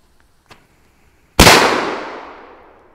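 A Cobra P1 firecracker goes off in a single loud, sharp blast that rings out and decays over a second and a half, after a faint click before it, with no talking.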